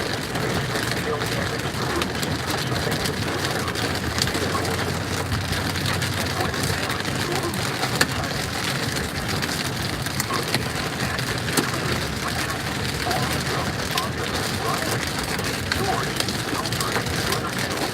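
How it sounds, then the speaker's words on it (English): Dime- to nickel-sized hail pelts a vehicle during a severe thunderstorm near Manhattan, Kansas. It makes a dense, continuous rattling hiss, loud and steady throughout. "The hail gets any bigger, I've got to turn around."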